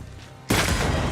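A single loud, close gunshot in the Banishers: Ghost of New Eden video game cracks abruptly after a quiet half-second and rings on with a dense, sustained blast.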